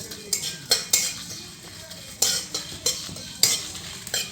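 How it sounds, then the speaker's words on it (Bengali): Whole coriander seeds being stirred in a pan for a Bengali jujube (kul) pickle, with a utensil scraping and clinking against the metal in a series of sharp, close strokes over a faint background hiss. "দিয়ে ভালো করে নাড়িয়ে নিল"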